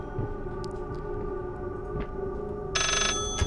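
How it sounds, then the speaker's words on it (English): A phone in the horror video game Layers of Fear gives one short, bright ring near the end, cutting through a steady low electrical hum and faint scattered noises. "Hello, Mr. Phone."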